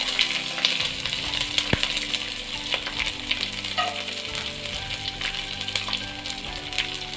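Crushed garlic and ginger frying in hot oil for a fish head curry: a continuous close sizzle with scattered crackles and a sharp clink of a utensil, no voices.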